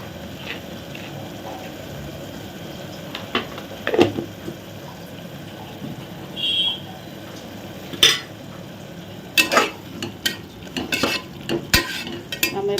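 Ginger garlic paste sautéed in a pan for mint rice, with a soft steady sizzle under repeated scraping and clinking strokes of a spoon stirring it, close by and without talk.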